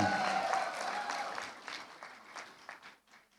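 Audience applause at a master class seminar, dense clapping that starts full and steadily thins out into scattered claps as it fades.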